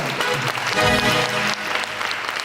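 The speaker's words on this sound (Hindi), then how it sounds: "तालियां भाई, तालियां इस बार।" Studio audience applauding on the set of a talk-show interview, a steady dense wash of clapping with a brief voice or music tone mixed in under it.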